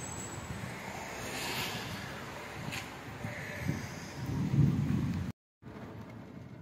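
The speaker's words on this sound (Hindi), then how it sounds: "बारिश भी शुरू हो चुकी है और मौसम बड़ा ज़बरदस्त हो गया है" Steady rain falls with a low, rumbling swell of thunder building toward the end, then a brief dropout before the rain resumes.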